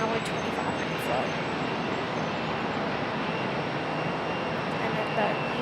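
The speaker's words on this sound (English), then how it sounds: "On the runway behind us, we have American Airlines 1084 and Airbus A321 coming in from LaGuardia, New York" An American Airlines Airbus A321 jet arrives on the runway at Charlotte Douglas, a fairly faint, steady distant engine rush with a voice speaking over it.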